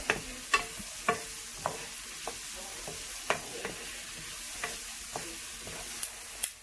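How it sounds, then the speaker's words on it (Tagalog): Onions sauté in melted salted butter in a hot pan, sizzling steadily while a utensil scrapes and taps against the pan at irregular intervals, close up and with no talking. "After natin i-heat ang pan, mag-melt tayo ng butter. Sautein natin ang onions."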